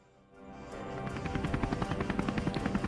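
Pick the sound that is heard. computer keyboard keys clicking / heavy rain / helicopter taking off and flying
helicopter taking off and flying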